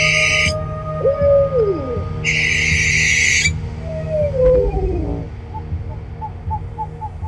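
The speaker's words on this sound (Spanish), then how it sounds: "escuchar el canto de una lechuza" An owl, named as a barn owl, gives a few loud, near, drawn-out descending calls, with two bursts of harsh hiss between them and faint regular chirps near the end.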